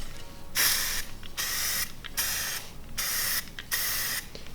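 Several short bursts of hiss from an aerosol spray can fitted with a cheap trigger handle, about five in irregular succession, each lasting roughly half a second, close and fairly loud with faint mechanical clicks between.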